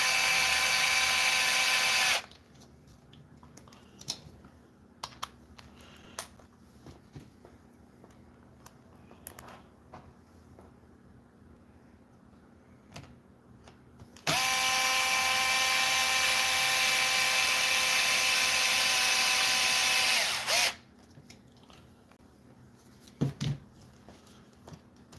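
Power drill driving screws into a Kraton 6S RC car, two long whirring runs with a steady tone, separated by quiet stretches of small handling clicks and taps.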